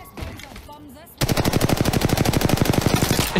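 A loud, rapid rattle of automatic gunfire in the video game Apex Legends starts abruptly after a moment of muffled voices and keeps firing in a steady, close burst.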